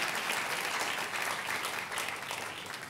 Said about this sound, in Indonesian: kalau mau tepuk tangan yang paling meriah buat Yesus Tuhan kita.